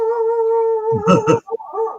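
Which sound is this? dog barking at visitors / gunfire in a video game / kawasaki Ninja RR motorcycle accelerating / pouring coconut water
dog barking at visitors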